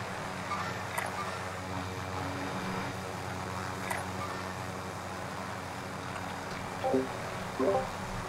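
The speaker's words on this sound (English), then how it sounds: "I'm coming over with the chopper right now." Helicopter flying in a multiplayer video game, its rotor giving a steady, even drone through the whole stretch with a few brief sharper sounds near the end.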